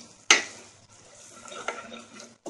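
Spices stirred into a pan with ginger and garlic for masoor dal pulao, a sharp scrape or clatter near the start followed by low sizzling and soft stirring scrapes, with another brief knock at the end.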